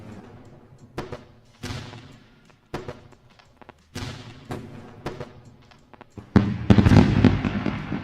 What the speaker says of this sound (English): Let's go for a round of fireworks for the celebration time.